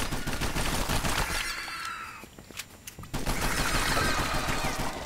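Rapid gunfire in the video game Cobalt, loud bursts of automatic shots and a fusillade that drop away briefly in the middle before a heavy, sustained volley resumes; no speech.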